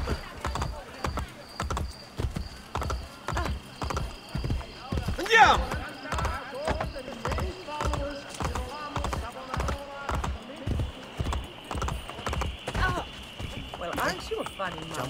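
Horse hooves gallop in the video game Assassin's Creed Brotherhood, a steady, rapid thudding rhythm that runs throughout, with voices talking over it.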